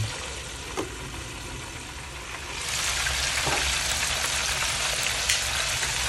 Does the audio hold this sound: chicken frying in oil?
yes